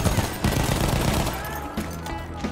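Sustained automatic gunfire in Battlefield 1, a dense rattling stream of rapid shots that keeps going for the whole stretch with only small dips, loud and close amid battlefield noise.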